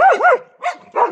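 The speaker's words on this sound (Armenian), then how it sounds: "Անիմաստ հաչում եք, ինչը ավելորդ ուշադրություն է գրավում։" A dog barking up close, three short sharp yelping barks in quick succession.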